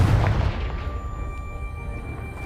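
Confringo blasting spell going off in Hogwarts Legacy, a single loud boom at the start that decays into a low rumbling tail, heard alone.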